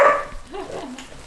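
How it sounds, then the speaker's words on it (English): A pet dog barks at a bird indoors, letting out one sharp yip followed by whining, whimper-like vocal tones, close and fairly loud. "without the dog barking at the bird"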